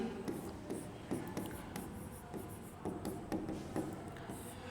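Chalk writes on a board during a chemistry lecture, making soft scratchy strokes and light taps in an uneven rhythm. The sound is faint and close, with no talk over it.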